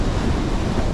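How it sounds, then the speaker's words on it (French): Ocean swell and waves rolling onto the shore with strong wind buffeting the microphone, a loud, continuous roar with no voices. "La houle, le vent, les vagues"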